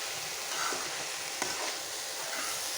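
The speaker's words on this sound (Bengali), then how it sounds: "একটু ভেজে নেব।" Ingredients for kachchi fish chachhari with taro stems fry in oil in a pan, a continuous hissing sizzle with a couple of faint stirring taps, close and steady, no voices.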